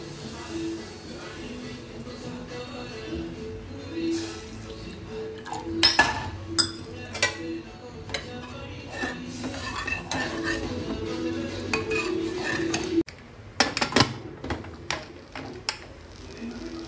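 A spoon scrapes and clinks against a metal cooking pot while powder is stirred and sautéed, irregular bursts of clatter rising over a quiet kitchen background with occasional distant bird calls.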